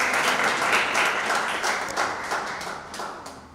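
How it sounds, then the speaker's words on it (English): Conference audience applauding, a dense steady wash of clapping that gradually fades over a few seconds. "A round of applause for him."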